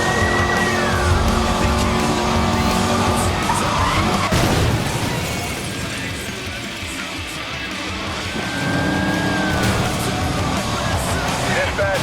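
Cars race and skid during a police pursuit in Need for Speed: Most Wanted (2012), with steady engine roar, rising engine whines and tire squeals, alongside a brief loud impact and radio chatter over the game audio.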